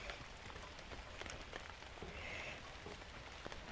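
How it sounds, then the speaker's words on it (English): Steady rain falls on a garden, a soft, even patter with scattered brighter drop hits throughout, moderately faint and with no one talking. "It's really raining."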